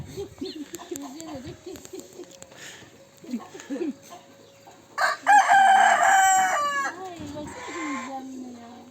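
Chickens cluck nearby while people talk, then a loud rooster crows close up, its call drawn out over several seconds.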